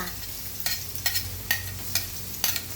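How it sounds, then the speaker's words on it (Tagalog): Ginger and garlic sautéing in a pan: a continuous low sizzle with regular sharp spatula scrapes about every half second, close up and with no talking. "Lutuin ang luya hanggang sa umamoy."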